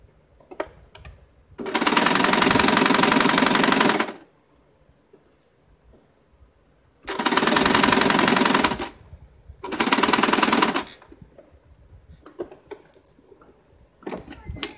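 A sewing machine stitches the lining fabric of a bag made from leftover cloth, running in three loud, steady bursts of even mechanical whirring, each a couple of seconds long, separated by quiet pauses with faint handling noises.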